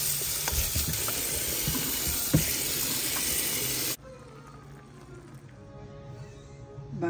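Galunggong fish frying in hot oil, a steady, dense sizzle and crackle for about four seconds that cuts off abruptly, leaving faint kitchen room sound with scattered small ticks.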